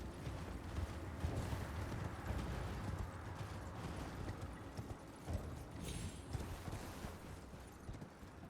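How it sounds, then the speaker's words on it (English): Hooves of the horse Torrent in the video game Elden Ring pound in a steady galloping rhythm, loud and continuous, with rumbling game ambience and a brief bright chime midway. "Good horse."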